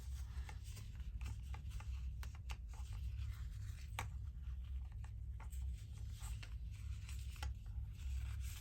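Scissors snip and scrape quietly through fabric in a series of short, close, irregular cuts with a soft background hiss.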